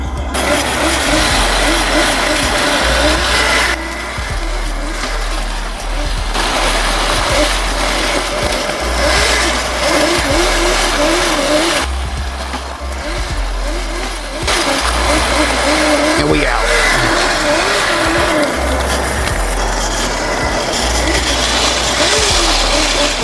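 72-volt electric mini quad sliding uphill through turns, a continuous loud motor and wind roar that surges and dips in waves as it drifts.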